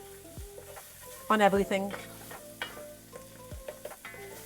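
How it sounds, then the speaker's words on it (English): Spices stirred and fried in oil for a chickpea stew with kale and chicken, a loud burst of sizzling and scraping near the start that settles into quieter stirring and frying, with a brief voice. "We're just getting one last quick bit of toasting, one last little bit of frying action"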